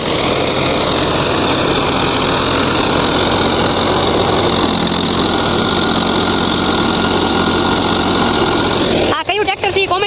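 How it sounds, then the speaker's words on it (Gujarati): A tractor-driven millet thresher (haller) runs with a loud, steady mechanical drone and engine hum, then cuts off abruptly near the end into brief noisy clatter. "આ છે હલ્લર."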